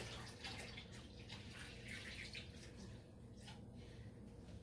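Water pours into a canning pot for hot water bath canning, making a faint, continuous gush and splash that rises and falls slightly and holds for several seconds with no voices.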